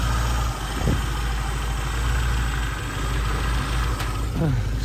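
A carbureted 1275cc classic Mini engine idles steadily close by, a constant low rumble with a slightly uneven, popping beat running the whole time, plus a couple of faint brief sounds over it.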